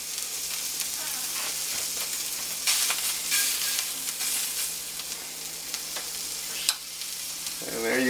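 Sausage sizzling and charring in a hot frying pan, a steady close crackle of fat with occasional stirring and scraping sounds and a faint hum underneath.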